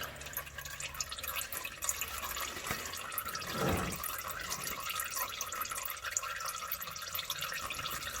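Engine oil draining from a Kia Soul into a pan, a steady faint trickle with soft dripping that continues throughout, no voices over it.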